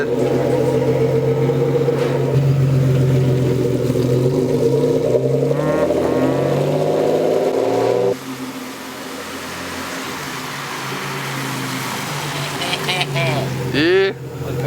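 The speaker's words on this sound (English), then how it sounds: "drop the car down and take it for a drive and see if it" A car lowered after its wheel arch lip was ground is driven, its engine droning loudly inside the cabin, then settling into a lower road rumble, with people talking over it.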